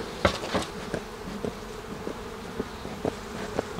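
Honeybees buzz around an open hive during an inspection in a Quebec apiary, a soft steady hum close by, with several faint taps and clicks scattered through it.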